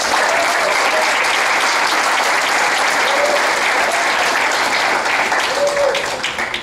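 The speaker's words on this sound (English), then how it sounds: "So give your teachers a round of applause." A large conference audience gives sustained applause to its teachers. The clapping is dense and steady at close range for nearly seven seconds and thins slightly at the end.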